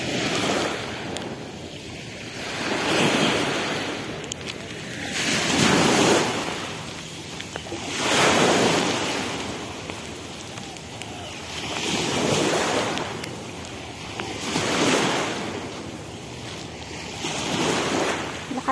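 Ocean waves at the seashore, breaking and washing in slow regular surges every few seconds, close and loud with wind buffeting the microphone, no voices.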